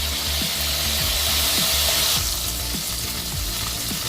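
Oysters fry in hot oil with a loud, continuous close sizzle and bubbling, the hiss easing slightly halfway through while low rhythmic knocks sound beneath.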